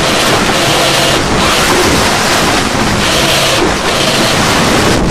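Wind and waves on the open Atlantic aboard a sailing catamaran, a steady loud wash of surf and rushing wind buffeting the microphone, with slight surges in the hiss throughout and no voices.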